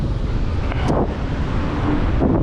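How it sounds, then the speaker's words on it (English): Loud, constant wind buffets the microphone while cycling in Birmingham, a low rumbling roar with gusty surges and no voices. "it's quite windy"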